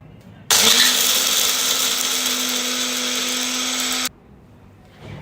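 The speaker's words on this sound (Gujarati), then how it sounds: "હવે એને મિક્સી જારમાં લઈ લઈશું. અને હવે એને આપણે ક્રશ કરી લઈશું" A mixer grinder jar crushing roasted chana (daliya) into powder roars in one loud, steady burst of about three and a half seconds, then cuts off abruptly.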